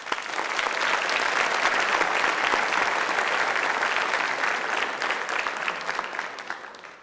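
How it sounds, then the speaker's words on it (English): An audience at a 2022 certification ceremony for St. Clair TEC breaks into a big round of applause, a dense, steady wash of clapping that holds for about seven seconds before tapering off. "I ask everyone to give a big round of applause to yourselves for all your accomplishments"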